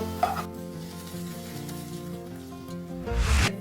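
Chocolate French toast (pain perdu) frying in a pan, a steady close sizzle with soft stirring or turning noises and a louder burst of crackle near the end, no talk.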